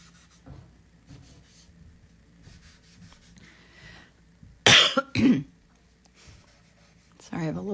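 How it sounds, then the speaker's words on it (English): An adult coughs at close range during an oil painting session, two loud harsh bursts in quick succession followed by a third starting near the end, after quiet brush rubbing. "Sorry, I have a little bit of a cough today."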